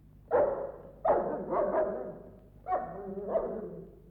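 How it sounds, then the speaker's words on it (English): A dog barks several times nearby, short sharp woofs in a loose irregular pattern with brief pauses between them. "it's no good Mungo barking at me"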